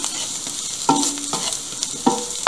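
A utensil scrapes the pan as chicken, chickpeas and spices such as cumin are stirred, with a few distinct scraping strokes over a steady sizzle and no voices.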